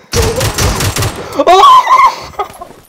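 A close, loud burst of rapid gunfire in PUBG Mobile fills the first second and a half, then an excited voice shouts over the fading game sounds.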